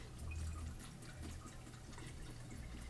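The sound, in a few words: water draining from cooked food in a colander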